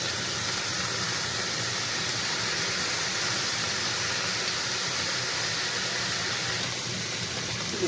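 Stir-fry sauce sizzles in a hot pan with tofu and paprika, a steady broadband hiss that holds at even loudness throughout without pause.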